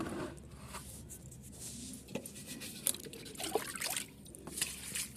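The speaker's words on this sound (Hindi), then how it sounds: "मैं इसका पूरा का पूरा पानी ये नींबू में दे दूँगी" Liquid fertiliser water, made from rotted mustard and neem cake, is poured onto a potted lemon plant, giving close trickling and splashing with uneven spurts and drips, moderately loud and alone.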